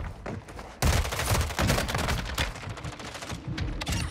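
Rapid, loud shotgun blasts in a video game, firing in quick succession with dense, continuous gunfire and no pauses.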